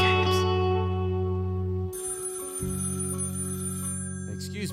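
A telephone rings with sustained electronic tones that shift in pitch partway through, steady and moderately loud, with no talking over it.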